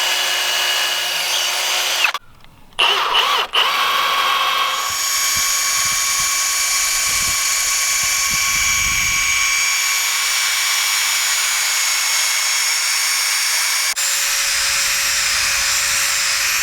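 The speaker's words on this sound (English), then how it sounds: "What you do first is you drill your post exactly in the center" A power drill whines steadily while boring into the center of a wooden post, loud and continuous, with a short stop-and-restart early on before the long, unbroken run.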